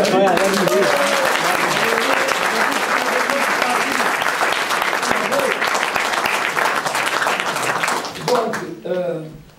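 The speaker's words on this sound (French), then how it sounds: "On peut applaudir aussi d'ailleurs" Audience applause filling a hall, dense sustained clapping from many hands lasting most of the stretch before fading out, with a voice talking over it near the start and again at the end.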